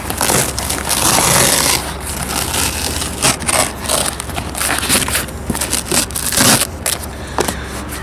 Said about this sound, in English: get our router, and go ahead and cut this out